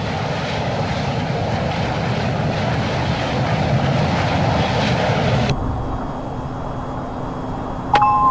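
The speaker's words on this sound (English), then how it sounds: "Alright, you're ready to taxi." A simulated F-22A jet engine in a flight simulator game drones loud and steady while taxiing, then cuts abruptly to a quieter hum, with a brief electronic tone near the end.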